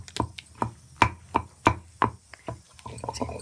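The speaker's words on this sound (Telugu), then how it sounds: "బాగా మిక్స్ చేస్తూ దంచుతూ ఉండండి" Roasted brinjal chutney pounded by hand in a mortar, village style, with a steady series of close, dull thuds about every third of a second, loud and rhythmic, tapering at the end.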